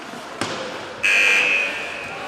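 An ice hockey rink buzzer sounds during a women's under-16 game, a loud sustained electronic tone lasting about half a second to a second after a sharp knock, then fading into the arena's ambient noise.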